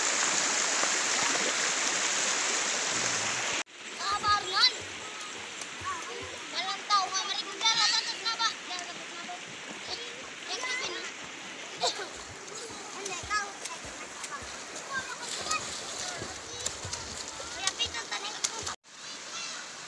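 A river in rural Panay Island, Philippines, washes and splashes steadily nearby, with irregular splatters throughout and children's voices chattering in the background.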